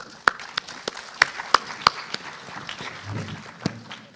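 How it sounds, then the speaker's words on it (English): Scattered, sparse hand claps from a small part of the audience at an education plenary session, sharp separate slaps spaced irregularly, with a faint murmur near the end. "Another round of applause for the panelists."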